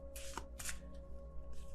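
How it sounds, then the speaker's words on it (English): A large tarot card deck is shuffled in three quick, faint riffling bursts, with short pauses between them and no talking. "I love this deck, but it's really hard to shuffle because it's really big."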